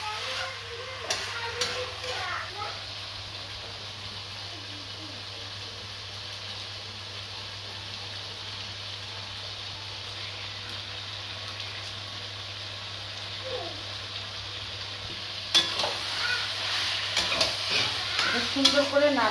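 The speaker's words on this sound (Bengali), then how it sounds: "সুন্দর করে নাড়বো। যত সুন্দর করে এটাকে কষাবো তত সুন্দর হবে।" Chicken curry being stirred and fried in a pan, a steady soft sizzle running throughout with scraping stirs, growing louder and busier near the end.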